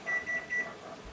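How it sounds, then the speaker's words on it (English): Three quick, bright electronic beeps from a microwave oven in a kitchen where wheat is being boiled, close and crisp, followed by near silence. "The beeper on the microwave is going off."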